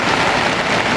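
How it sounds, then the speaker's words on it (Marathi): Steady, dense downpour of heavy rain, a continuous loud hiss of drops hitting surfaces with no pauses and no voices. "आमच्या जन्मापासून आणि कधी एवढा पाऊस बघितला नाही तेवढा पाऊस होतो आहे"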